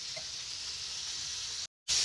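Butter sizzling in a pan with whole spices and pandan leaves, a steady close frying hiss that cuts out briefly near the end and returns louder.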